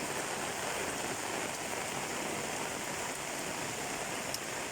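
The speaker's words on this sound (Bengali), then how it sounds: "দেখেন বৃষ্টি আর বৃষ্টি" Heavy rain pours down steadily in Bangladesh, a dense, even hiss of falling water with no breaks, fairly loud and unbroken, with no voices over it.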